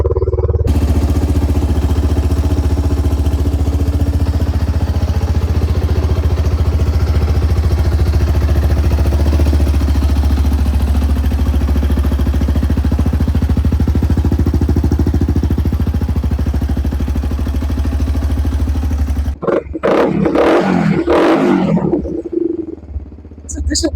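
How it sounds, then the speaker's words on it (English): A restored Suzuki DR125 motorcycle engine, started on choke, runs loud and steady for nearly twenty seconds, then cuts off and someone speaks. "let's put the choke and just start the bike."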